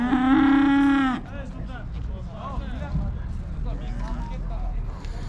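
A single loud, drawn-out cow moo opens at a rural livestock market with sheep, goats, cattle and bulls for sale, followed by people talking over a busy background.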